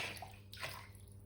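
Water runs and splashes steadily over a fairly new, textured Minelab Pro gold pan from a panning kit, close by and continuous, with no talking.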